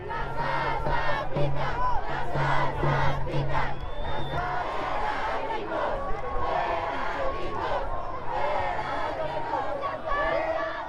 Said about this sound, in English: It's like a mass crowd.